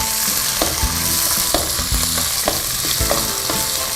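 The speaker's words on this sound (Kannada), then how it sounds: "ಈರುಳ್ಳಿ ಚೆನ್ನಾಗಿ ಅದು ಬಣ್ಣ ಕಳ್ಕೊಳ್ಳೋ ತನಕ ಫ್ರೈ ಮಾಡಬೇಕು" Onions sizzle loudly in hot oil with curry leaves and green chillies, a dense continuous fry close to the mic with a regular series of spatula scrapes against the pan, no voices.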